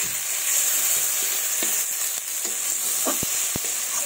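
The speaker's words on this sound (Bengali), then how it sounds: "এটাকে একটু ভালো করে ভেজে নেব, মশলাটা যাতে কাঁচা গন্ধ না থাকে" Green chili paste spice mix fries in oil with a continuous bright sizzle, punctuated by a few sharp spoon knocks and scrapes against the pan toward the end.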